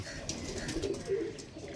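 An Andhra Madras pigeon coos softly at close range, a few low, rolling calls over faint background noise.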